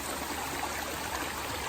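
A small stream trickles and splashes steadily, close by, with no voices, along the Appalachian Trail.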